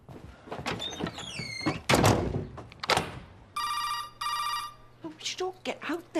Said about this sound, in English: Can you not hear the phone?